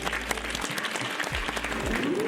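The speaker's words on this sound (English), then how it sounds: "here's a nice big round of applause to you" A burst of applause from a crowd played as a sound effect, loud dense clapping held steady for a couple of seconds, with a voice briefly underneath.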